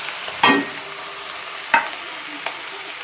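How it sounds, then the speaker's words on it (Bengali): Fish oil with a little fish roe fries in a hot wok on a gas flame. A soft, steady sizzle runs underneath three distinct scraping stirs of a spatula against the metal. "মাছের তেলের সাথে অল্প ডিমও আছে, খেতে আরও টেস্ট হবে। ভালো করে নাড়াচাড়া করে নেব।"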